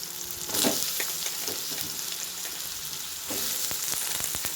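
Vegetables frying in a pan for a home-style lunch, a loud, steady sizzle with stirring scrapes and light clinks throughout, close and without talk.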